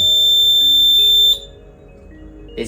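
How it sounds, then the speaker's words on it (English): An industrial LED process indicator timer display panel sounds its buzzer on reaching zero: a loud, steady high-pitched tone holding for about a second and a half before cutting off abruptly, followed by quiet room noise. "And once reach 0, it will buzzer"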